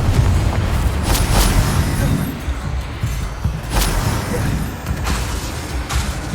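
Confringo fire-spell blasts in Hogwarts Legacy go off as several booming impacts spaced across a few seconds, heavy and close amid ongoing combat noise.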